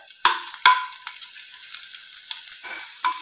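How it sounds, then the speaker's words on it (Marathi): Finely chopped ginger and garlic go into hot oil in a kadhai wok for cabbage manchurian. A couple of sharp clanks are followed by a faint, thin sizzle and scattered light taps, close and with no talking. "तर त्यासाठी आपण कढईमध्ये 1 पळी तेल टाकूया। यामध्ये आपण 1 चमचाभर अद्रक आणि लसूण छान बारीक चिरून घेतलेले आहेत"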